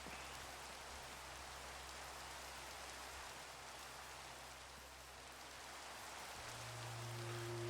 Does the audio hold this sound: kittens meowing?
no